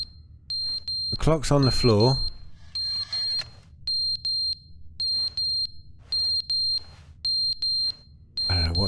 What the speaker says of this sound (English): All we've got is the smoke alarm.